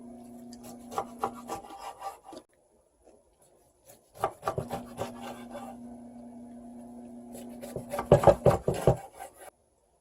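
A knife cuts repeatedly through crunchy kimchi on a wooden board, in bursts of quick rhythmic strokes with short pauses between.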